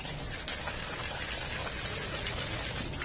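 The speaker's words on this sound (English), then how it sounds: "Make sure you put water from the front side" Water sprays onto the radiator of a Bajaj Dominar motorcycle during washing, a steady hissing gush, close and even, with no talking.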